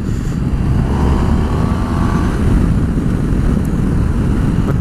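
A Honda VFR1200X motorcycle engine drones loudly and steadily up close, its rumble building slightly as it accelerates, with wind noise throughout and no talking.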